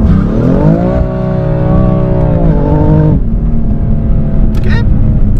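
A BMW M3, not the Competition version, accelerates hard in first gear, its engine note climbing loud and close before a shift drops the pitch and the revs build again, with a voice speaking over it.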